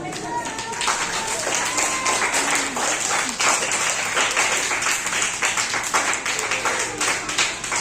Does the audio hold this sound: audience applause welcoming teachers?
yes